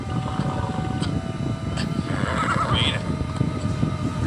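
A horse in the fantasy video game MIR4 gives a mid-length whinny over a steady game ambience with faint background tones and clopping.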